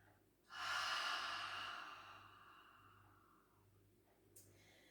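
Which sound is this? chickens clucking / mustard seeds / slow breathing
slow breathing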